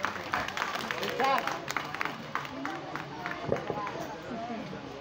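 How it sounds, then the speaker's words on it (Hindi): Loud audience applause at a mushaira greets the poet Anisa Sabri as she reaches the microphone. Dense clapping runs throughout, mixed with crowd chatter and scattered voices. "जोरदार तालियों से"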